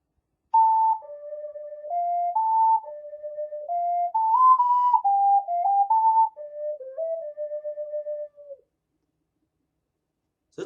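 A plastic ocarina plays the Song of Time as a clear, pure whistled melody of stepped sustained notes, close and alone, ending in silence.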